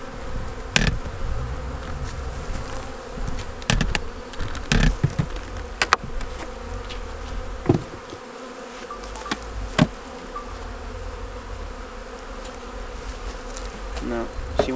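A honeybee swarm buzzes steadily at an apiary hive as it moves in, a dense close drone with a few brief louder bumps and passes throughout and no talking.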